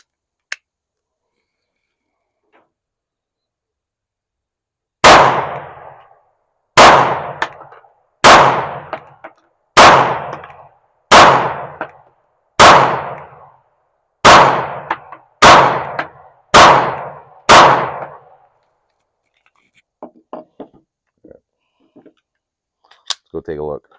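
A 2011-style pistol fires MagTech brass-case ammunition at an outdoor range from 15 yards, with light primer strikes. Ten loud, sharp shots ring out alone at a steady, deliberate pace, followed by faint handling clicks.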